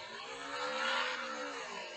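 Motorbike engine droning steadily while riding in PUBG, a continuous harmonic hum that swells slightly midway and holds loud and close, with no talk over it.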